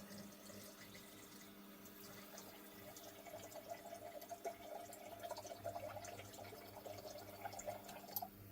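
Water pouring from a 3-gallon jug in a converted school bus living space, a steady trickling stream with light splashing and drips that grows slightly fuller partway through, close and quiet with no talking.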